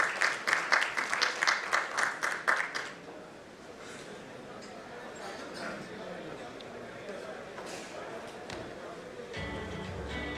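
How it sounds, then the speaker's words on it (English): A conference audience claps in a burst of loud, rhythmic applause that fades out after about three seconds, leaving quiet hall ambience and faint murmuring. "let's welcome her with a huge round of applause."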